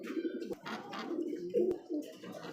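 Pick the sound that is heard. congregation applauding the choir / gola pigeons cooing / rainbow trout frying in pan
gola pigeons cooing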